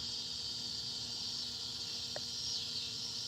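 Jar flies, or cicadas, call at night by a marina with a steady, continuous high buzzing drone that stays even and moderately loud throughout, with no talking.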